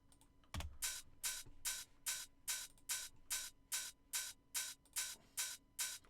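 Hi-hats in an electronic music production, a quiet, regular pulse of crisp, hissy ticks repeating about a dozen times at an even tempo with little else underneath.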